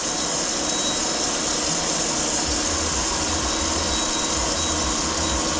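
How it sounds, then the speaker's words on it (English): A crankshaft grinder works a Triumph TR2 crankshaft in a steady, continuous whirring grind with a low rumbling undertone, close and unbroken throughout. "just start to grind into the crank a bit more"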